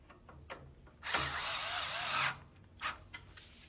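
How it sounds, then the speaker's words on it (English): A powered screwdriver whirs for about a second as a screw drives into a PC case motherboard bracket, framed by soft handling clicks before and after. "Slide that up, match the screw up, start screwing it in."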